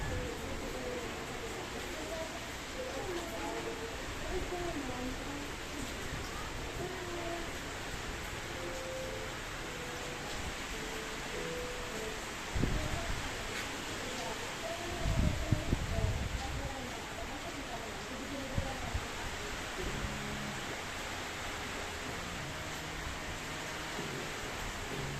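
Strong wind during bad weather, a steady broadband rush of moderate loudness throughout, with a few brief louder gusts or rustles near the middle.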